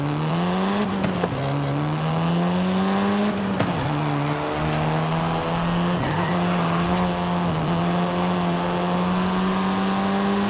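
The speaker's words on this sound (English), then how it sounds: "This version is the Volkswagen Golf R" A seventh-generation Volkswagen Golf R in Forza Horizon 5 drones with a steady, loud engine note that climbs and dips as the revs shift, continuous and close with no talking.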